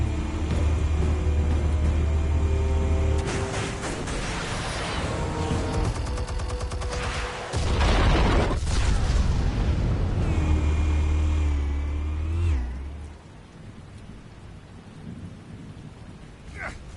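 Explosives detonating in a PS4 video game rumble in deep, sustained booms with crackling debris, loud and close, the blasts swelling and fading over several seconds before settling into a quieter rumble.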